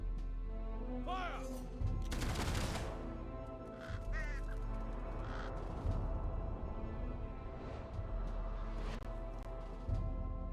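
A firing squad lets off a burst of gunfire in the Fable 3 video game: a loud, dense crack of shots followed by scattered echoing pops, over a steady low game hum with bird caws now and then.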